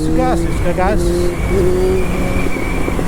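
A car engine with a popping fault runs at a steady, fairly loud idle, with a voice talking over it throughout.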